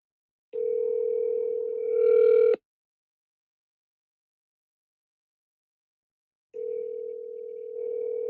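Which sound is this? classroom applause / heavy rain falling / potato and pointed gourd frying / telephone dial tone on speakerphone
telephone dial tone on speakerphone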